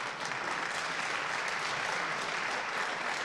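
Crowd applause from wrestling fans at a live wrestling match, a steady, even wash of distant clapping that holds at constant level without a break.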